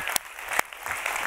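Applause from a large audience of several hundred in an auditorium at the closing of a science event, heard as a quieter wash of clapping with a few sharper, louder claps standing out.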